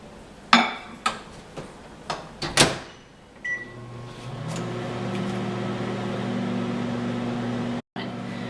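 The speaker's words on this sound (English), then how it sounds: "We're going to microwave it for 1 minute." A few clicks and clunks of a door and buttons, then a steady low humming drone starts and runs on close by, briefly cutting out near the end.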